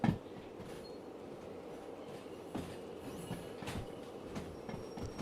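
Railcars being coupled into a long train in the rail simulator game Derail Valley, with steady rumbling machinery and several sharp metallic clunks and clanks spaced through the clip.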